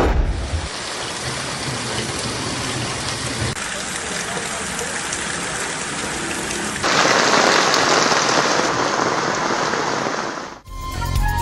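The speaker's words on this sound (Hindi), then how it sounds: "खैबर पख्तूनख्वा के मुख्तलिफ इलाकों में शदीद बारिश के बाद सैलाबी सूरत हाल" Heavy rain pours steadily during flooding in Khyber Pakhtunkhwa, a dense loud hiss that swells even stronger in the later part before cutting off abruptly.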